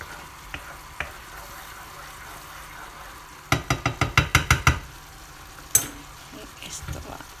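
Vegetable potaje in a pot gives a faint, steady sizzle and bubbling under a quick run of sharp spoon knocks against the pot, then a few scattered clinks.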